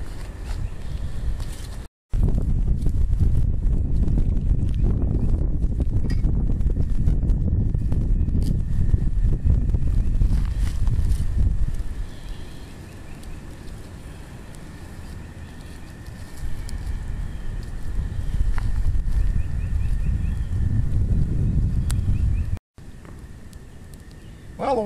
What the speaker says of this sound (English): Kind of a windy day